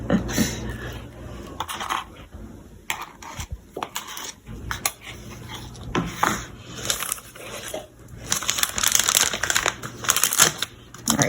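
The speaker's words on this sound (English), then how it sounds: "I will put it in the cup, and I will fold the sides down." A plastic piping bag of icing for Christmas cookies is set into a cup and its sides folded down, giving irregular crinkling, rustling and light tapping sounds at close range with no talk.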